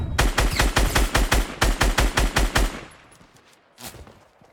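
Rapid bursts of sniper and automatic gunfire in the video game Fortnite, a dense string of loud, evenly spaced shots for about three seconds before cutting off into quieter ambience and one faint later crack.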